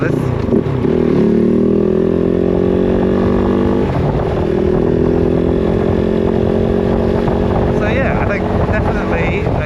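A KOVE 450 Rally motorcycle with a throttle-smoothness IAC mod rides at low RPM, its steady, loud engine drone holding throughout with wind buffeting the microphone and a voice talking over it.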